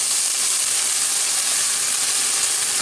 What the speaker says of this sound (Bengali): এবার এটা আমি পেঁয়াজ বাটাটা দিচ্ছি।